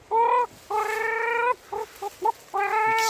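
A strained, warbling clucking call repeated in several bursts, some long and held, some short and choppy, close and clear against quiet wind.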